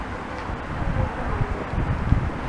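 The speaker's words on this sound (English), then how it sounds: "It's getting a bit windy now, and the wind is blowing in my direction" Wind buffeting a microphone outdoors, a continuous low rumbling roar with uneven gusts that swell and thump, close and fairly loud, with no voices heard.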